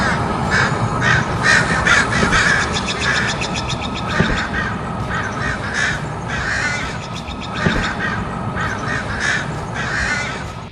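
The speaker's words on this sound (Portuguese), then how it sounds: "os corvos até podem frequentemente procurar brigas com águias" Crows caw in rapid, repeated harsh calls, several birds overlapping at close to mid distance, loud and continuous against a steady outdoor background.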